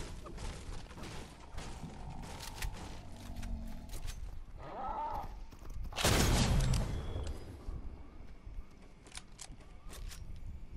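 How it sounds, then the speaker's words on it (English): Gunfire in Fortnite: scattered sharp cracks through the clip, with a loud, dense burst of shots around the middle, amid game ambience. "Oh damn, they're shooting at me."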